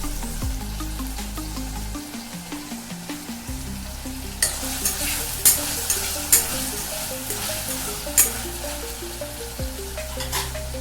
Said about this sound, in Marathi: आता यामध्येच ना आपण लसूण आणि आलं दोन्ही टाकणार आहे भाजण्यासाठी